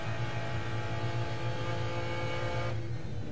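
A McLaren F1 GTR race car engine drones loudly at high revs as it accelerates through the upper gears on the Le Mans straight, a steady in-car roar with a gearshift near the end.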